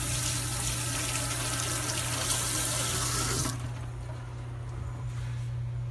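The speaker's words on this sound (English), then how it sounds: "let me wash this tomato off real quick" A kitchen tap runs hard as a tomato is rinsed under it, a steady close rush of water that cuts off abruptly partway through, leaving a faint hum.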